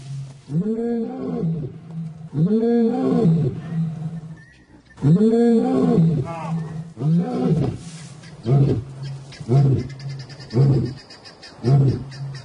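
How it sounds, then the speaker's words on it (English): Lions roar in the wild, a series of deep, rhythmic grunting roars that come in bursts spaced a couple of seconds apart, loud and close at first and then shorter and weaker toward the end. "as they roar their displeasure, the cubs scatter into the bush"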